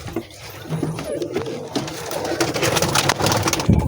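Several domestic pigeons coo nearby in a steady, overlapping murmur of soft throaty calls, growing slightly louder toward the end, with light rustling and no speech.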